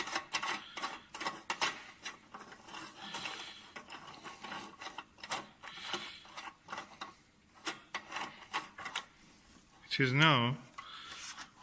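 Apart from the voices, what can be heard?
screwing a part onto a telescope's eyepiece mount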